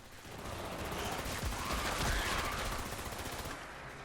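Automatic turrets firing in Fallout 76, a dense continuous rattle of rapid gunfire that stays loud and steady, with a few sharper bursts mixed through the sustained noise.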